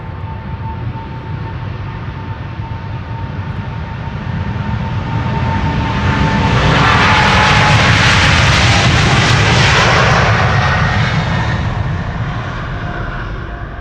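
A KLM Boeing 777 jet departing Amsterdam Schiphol Airport, heard up close as its engine roar builds to a loud, sustained peak with rising whine and then slowly eases off, with no voices over it.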